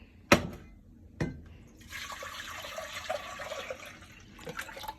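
Water running into a saucepan for boiling Kraft mac and cheese, after two sharp knocks of the pan being set down; a steady moderate stream follows, with a faint clink near the end.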